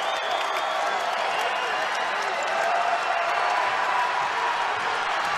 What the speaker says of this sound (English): Carl, this place all of a sudden has gone nuts